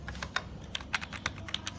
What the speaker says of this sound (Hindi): मैं यहाँ पे एक वर्ड लिखता हूँ